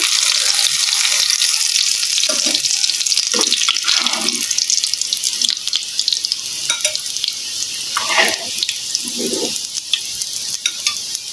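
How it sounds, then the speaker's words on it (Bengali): Steady, loud sizzling of mutton shami kebabs frying in oil fills the clip, with a dense crackling hiss and occasional soft clinks. "এ পিঠটাও ভালো করে ভেজে নিচ্ছি"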